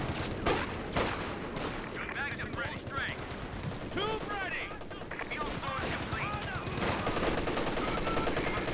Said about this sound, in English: We have an MG34 on this side now